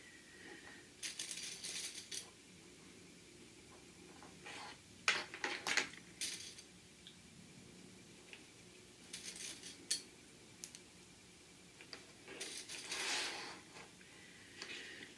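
Metal fabric clips snapped one after another onto the edges of a sewn curve-top makeup bag, giving scattered small clicks and rattles in quiet bursts.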